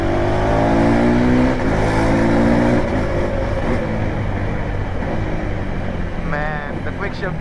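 A KTM 390 Adventure motorcycle engine pulls hard and loud, climbing in pitch, dropping through quick shifts, and climbing again with a steady, close roar throughout.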